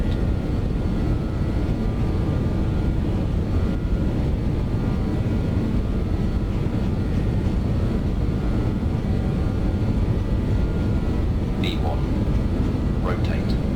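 BAe 146 jet engines at takeoff power in a flight simulator game: a loud, steady, dense engine roar filling the whole stretch without pause, with a few faint clicks near the end.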